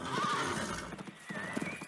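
A frightened horse gallops with rapid clip-clop hoofbeats and lets out a shrill neigh, loud and close, in a children's storybook narration.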